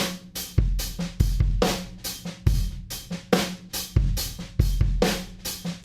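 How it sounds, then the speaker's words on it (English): A drum kit plays through a close room mic. Booming kick hits land in a syncopated pattern, with bright cymbal wash and snare cracks filling the gaps, and the room sounds full and roomy. "The close room mic sounded like this."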